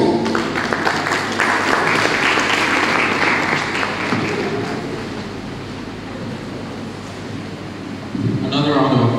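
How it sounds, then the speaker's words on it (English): Audience applause fills a university lecture hall at a public lecture, a dense, steady wash of clapping that fades slightly mid-way, then swells again as a voice begins speaking near the end. "Another round of applause for Professor Peterson"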